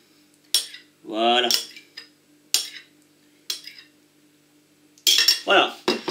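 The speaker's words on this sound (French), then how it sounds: "on donne un petit coup de mélange pour que tous se répartissent bien" Cutlery clinks and scrapes against a dish while stirring a roquefort cream mixture, several separate sharp metallic taps and one longer ringing scrape, close and clear, with a short spoken word near the end.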